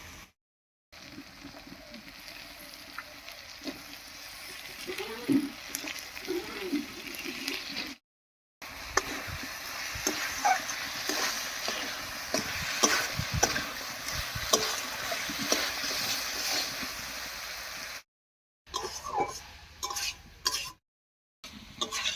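Green peas cook in a pan with ginger and garlic, giving a soft sizzle broken by irregular scrapes and clinks of a stirring utensil against the pan, with a few brief pauses.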